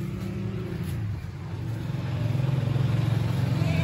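A village tubewell pump engine runs nearby in the morning, a steady low mechanical drone that grows louder and more pulsing toward the end.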